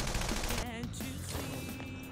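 Gunfire in the Persona 5 Strikers video game: dense, noisy bursts of shots mixed with game sound effects and a brief voice, all fairly quiet.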